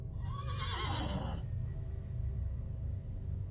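A frightened horse named Ace gives one shrill, wavering whinny that falls in pitch over about a second, then stops. A low, steady background hum continues afterwards.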